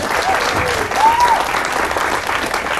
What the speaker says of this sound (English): give a round of applause to Representative Menz and Kevin Dawson